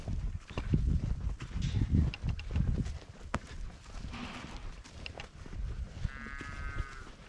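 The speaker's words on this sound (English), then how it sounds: "Got the food and there's the cows." Cattle crowd along a farm fence waiting to be fed, and several moos stand out over shuffling and rustling near the microphone, with a few sharp knocks mixed in.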